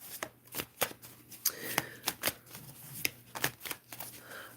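Tarot cards are shuffled close up in a quiet room, a quick irregular run of soft riffling flicks and slaps repeating for several seconds.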